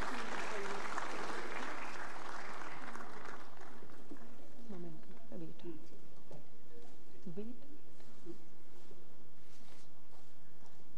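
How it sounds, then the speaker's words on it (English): Applause rises from an audience at an energy and environment awards ceremony, a broad clapping wash at the start that fades under a speaking voice carried over the hall's sound system. "A round of applause, ladies and gentlemen."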